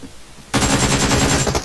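Automatic rifle fire in Battlegrounds Mobile India, an M4 burst erupting abruptly after a brief quiet and hammering on as a loud, close, rapid stream of shots.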